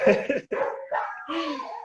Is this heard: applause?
no